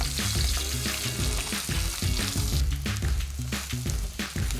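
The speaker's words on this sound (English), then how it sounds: "The mushrooms have now been cooking for 3 minutes." Mushrooms fry in a pan for bibimbap with a dense, steady sizzle and a few stirring scrapes, close and fairly loud, with no voices.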